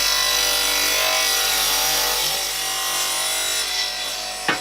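Wooden garden bench seat slats being cut to size with a saw: a steady, continuous rasping cut held at even loudness for several seconds, close and alone, ending with a brief knock.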